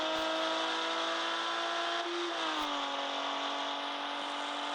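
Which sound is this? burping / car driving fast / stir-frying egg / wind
car driving fast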